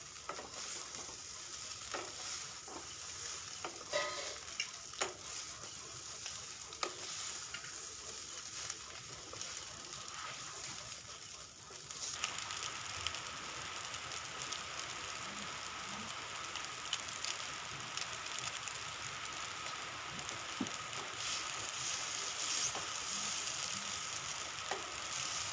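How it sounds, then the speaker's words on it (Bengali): Pasta tossed with spices in a home kitchen pan over a medium flame gives a steady, moderate sizzle, and a spoon scrapes and clinks irregularly through it. "আবারও 2-3 মিনিট মতো ভালো করে নাড়াচাড়া করব,"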